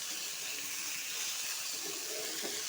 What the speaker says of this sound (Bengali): আমি এগুলো ভেজে নিচ্ছি